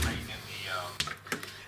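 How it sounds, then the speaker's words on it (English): The outer door of a tiny house swings shut, ending in a sharp knock followed by a couple of smaller latch clicks, heard close while someone talks just before the closing. "And we'll close this door here."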